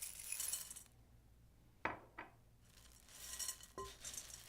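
Dry snack mix of mini pretzels, dried cranberries and chocolate-coated candies rattles and rustles as it is tossed in a bowl, with a few sharp clinks against the sides.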